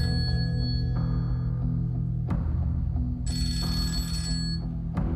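A telephone rings repeatedly in a home, its electronic ringtone repeating steadily and fairly loudly with no voices over it.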